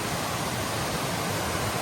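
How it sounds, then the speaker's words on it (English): Little Wilson Falls, a waterfall over slate rock in the 100 Mile Wilderness, roars as a dense, unbroken rush of falling water, loud and steady throughout with no voices. "Little Wilson Falls is a cool waterfall right here"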